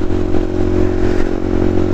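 A motorcycle engine runs loud and close, a steady throbbing drone with strong low harmonics that holds level throughout.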